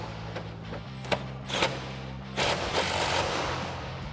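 A pneumatic impact gun with a 13 mm socket drives exhaust bolts tight on a 2005-2010 Mustang GT's MBRP axle-back, giving several short, loud rattling bursts close by with shop hum between them.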